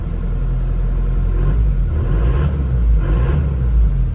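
1999 Isuzu Panther NewHiGrade engine idling, heard from inside the cabin with the hood closed, a steady low rumble with slight swells, close and loud, with no talk.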